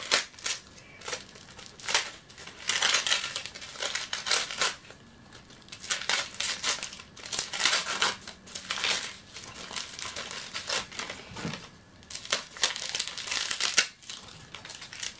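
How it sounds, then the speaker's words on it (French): Gift wrapping paper crinkles and tears in repeated bursts as it is unwrapped up close, with brief quiet pauses between handfuls. "je fais trop de bruit en ouvrant mes papiers cadeaux"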